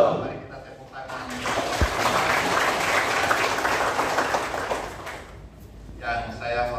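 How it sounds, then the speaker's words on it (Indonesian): Applause from a church congregation at a pastor's installation service in Manokwari, West Papua, a broad dense wash of clapping lasting several seconds before fading, with a voice speaking near the end. "Mari kita tepuk tangan."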